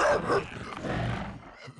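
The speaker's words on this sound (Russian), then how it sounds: "У меня лает она до сих пор" A mutant dog barks in Last Island of Survival, a couple of close, rough barks at the start fading into a low growling rumble, mostly on its own.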